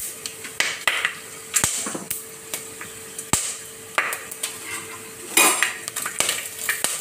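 Whole spices for pulao fry in hot oil while a metal spoon stirs and knocks against the pan, sharp clinks and scrapes recurring over a soft sizzle, close up with no talking.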